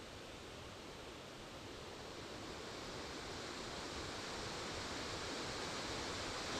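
The main waterfall pours down in a steady, even rush of broadband white noise, quiet and distant-sounding, with no voices or other sounds.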